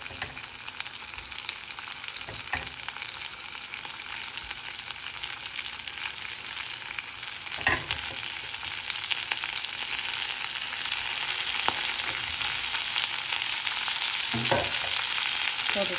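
Small pieces of tinned fish fry and sizzle in a pan for a fish curry, with a steady loud crackle and occasional scraping stirs, no voices.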